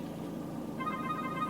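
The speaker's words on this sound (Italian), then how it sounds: "mi piace che possiamo regolarci la suoneria" An incoming-call ringtone from an Android car head unit installed in a Nissan Qashqai J11, a steady electronic tone starting partway through, soft and gradually rising, over low cabin hum.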